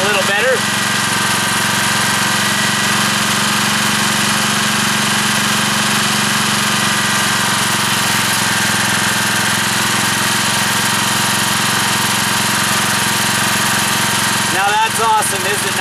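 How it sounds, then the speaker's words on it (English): A small generator runs steadily on syngas made from wood stove smoke, a loud continuous engine drone with a constant hum and no breaks, close by. "You can tell the generator's running a little better."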